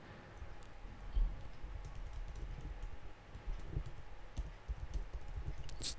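A command being typed on a computer keyboard, with a steady patter of close key clicks and a few heavier keystrokes throughout and no talking.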